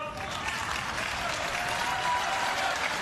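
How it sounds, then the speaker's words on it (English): A tennis crowd claps and murmurs during a women's match between Anett Kontaveit and Madison Brengle, a steady, fairly loud wash of applause and crowd noise with a commentator's voice faintly under it. "Listen to the crowd suddenly trying to become a distraction"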